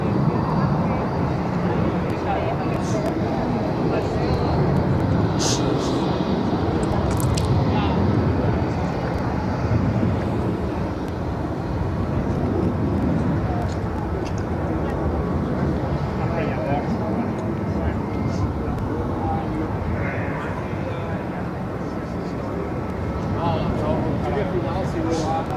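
JetBlue airliner taxiing at Barcelona airport gives a steady, distant jet-engine rumble and whine, with people talking over it throughout.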